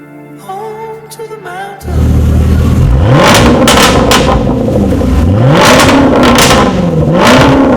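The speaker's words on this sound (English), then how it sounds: "Fitted on this specific Defender V8 is actually a Quicksilver exhaust" A loud Land Rover Defender V8 with a Quicksilver sports exhaust barks into life and revs repeatedly, each rise and fall rumbling and crackling close by, after a moment of brief talk.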